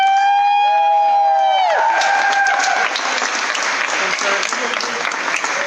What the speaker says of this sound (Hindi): तो मैं चाहता हूं हम सब जोरदार तालियां